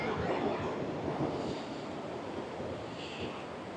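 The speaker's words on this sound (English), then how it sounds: "There's the ocean." Ocean surf washes steadily onto Legian Beach in Bali, a broad continuous roar of breaking waves mixed with wind buffeting the microphone and no clear voices.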